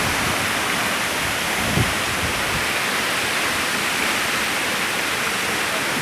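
Jarlan waterfall in Forward Kahuta district, near the Kashmir border, pouring cold water in a steady, dense roar that fills all six seconds without a break.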